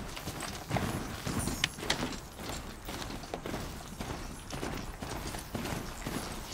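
Horse hooves clip-clopping in the video game Horizon Zero Dawn, a steady rhythmic gallop of hoofbeats, moderately loud and continuous, with faint mechanical sounds around it.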